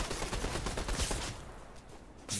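Gunfire in the video game Fortnite, rapid bursts of shots pattering fast, then thinning out, with a single louder shot at the end.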